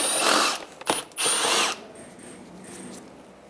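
Ratchet with a 7mm socket turning out front bumper bolts on a 2010-2017 Chevrolet Equinox, heard as close, loud bursts of whirring clicks with brief pauses, then quieter faint clicking at the end.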